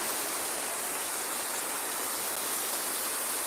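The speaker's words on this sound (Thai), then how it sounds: "ก็เสียงมันดังเนาะน้ำตก" A waterfall pours in a steady, dense rush of water, close and loud, continuous and alone with no voices.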